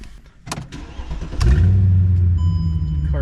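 A 2007 Mercedes-Benz CLK63 AMG Cabriolet's engine cranks over briefly, then fires into a loud, deep idle that holds steady close to the listener.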